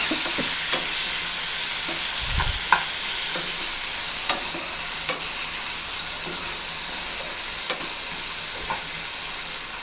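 Cut tomatoes sizzle and fry in a pan of hot oil while pulagam rice is cooked, a steady close crackle with occasional stirring clicks and no talk.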